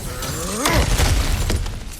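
A heavy crash and shatter as an obstacle is smashed apart in God of War Ragnarök, a loud close burst of breaking debris followed by rumbling impacts.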